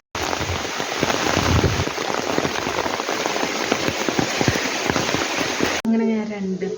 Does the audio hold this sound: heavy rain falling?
yes